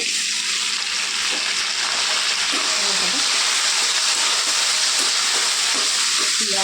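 Tomatoes and tamarind go into a hot pan with green chillies and cumin for a cucumber-coriander chutney, and a loud, steady hiss of frying runs throughout while a person talks over it.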